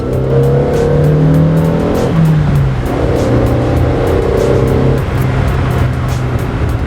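A Toyota Paseo engine revs loudly and continuously, pitch climbing and dropping as the throttle opens, with steady road and tire noise underneath.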